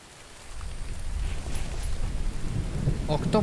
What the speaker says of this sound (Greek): Με έπιασε βροχή.